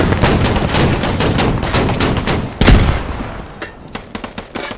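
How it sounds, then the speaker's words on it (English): Gunfire in a squad shooter game: rapid automatic bursts, loud and dense, then a heavy boom followed by sparser scattered shots. "I don't know why he's shooting us!"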